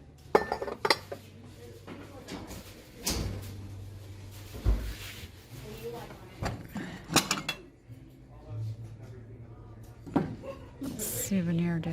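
Ceramic plates and dishes clink and clatter as they are picked up and set down in a thrift store, scattered close knocks and rattles under ongoing conversation.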